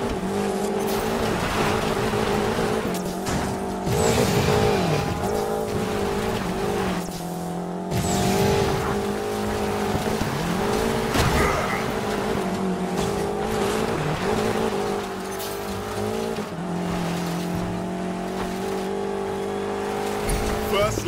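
Offroad cars race in NFS Payback's Free Ember Militia Gauntlet, engines revving and shifting constantly with tires scrabbling and skidding, while a person talks over the continuous game action.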